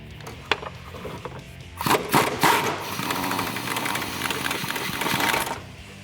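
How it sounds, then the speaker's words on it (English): A 1/2 inch impact gun with a 16 millimeter socket spins off the upper shock bolts on a 2011-2022 Dodge Challenger during a coil-over install, a few short bursts followed by a longer, steady rattling run nearby. "So now I'm going to take my 16 millimeter on my 1/2 inch impact gun."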